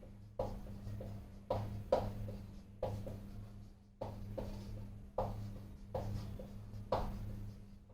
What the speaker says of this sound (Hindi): चलो मैं मिटा के लिखता हूँ उनको